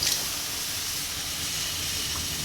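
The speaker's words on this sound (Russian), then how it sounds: "посмотрим, как образуется пар с парообразователя печи костер" Steam bursts from the steam generator of a Koster sauna stove, a steady loud hiss that starts with a sharp initial spurt and then continues evenly, close and alone without talking.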